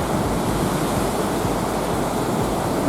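Surf breaking on a beach along the clear-water coast of Sri Lanka, a steady broadband wash of waves, loud and continuous with no voices.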